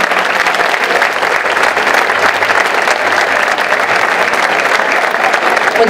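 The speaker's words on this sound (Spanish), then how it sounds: "Este aplauso va como agradecimiento para todas vosotras" Sustained applause from a crowd at a town festival opening ceremony in Villarcayo, steady dense clapping filling the hall, loud and close throughout.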